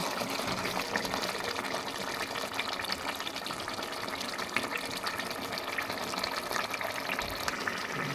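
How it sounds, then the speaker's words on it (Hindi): Beef karahi with green chillies sizzles and fries in a pan, a continuous hissing crackle at moderate level without pause. "अभी मैं इसे थोड़ी देर और भूनूंगी"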